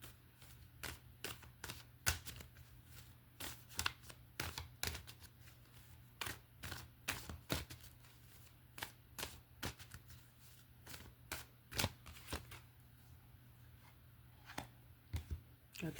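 A deck of tarot cards is shuffled during a card reading, producing quiet, irregular riffling snaps and taps over a faint background hum.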